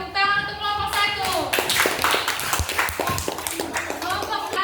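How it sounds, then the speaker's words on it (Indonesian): Students in a classroom applaud a group after its presentation. A dense, bright patter of many hands clapping close by is mixed with voices talking at the start and throughout. "Tepuk tangan untuk kelompok 1."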